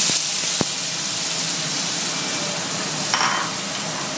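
Finely chopped onion and garlic sautéing in a pan for spiced red lentil burgers give off a loud, steady sizzle and hiss. A couple of sharp utensil clicks sound near the start.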